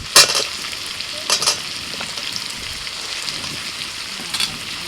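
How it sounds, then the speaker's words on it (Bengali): Carrots, potatoes and beans frying in a hot pot, a steady sizzle with sharp bursts of crackle and stirring near the start, middle and end. "টমেটো বাদে বাকি সব সবজিগুলো দিয়ে দিচ্ছি গাজর আলু বিনস"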